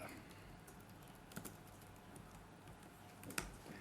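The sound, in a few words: computer keyboard typing while copying and pasting code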